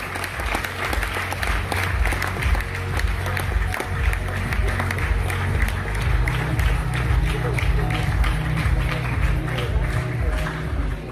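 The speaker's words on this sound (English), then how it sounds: "Let's welcome the little one with a loud round of applause." Audience applause welcoming a little girl onto a stage, continuous crowd clapping with a few sharp individual claps, over loud low rhythmic music and a murmur of voices throughout.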